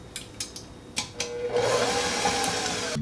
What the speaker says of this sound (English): go ahead and turn your stand mixer back on, and then we'll start adding in our ingredients